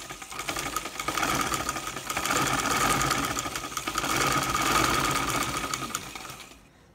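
A sewing machine runs steadily as it stitches the side seam of a silk kameez, a close, continuous rapid mechanical whir with slight swells in speed across several seconds.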